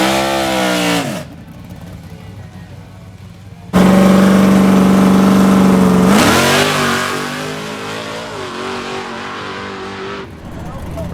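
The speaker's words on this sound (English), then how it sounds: "He comes up to make a couple test passes on nitrous." A drag racing car on nitrous makes a test pass, the engine blasting out a loud, sustained roar that surges sharply, then eases off and trails away, with people talking over parts of it.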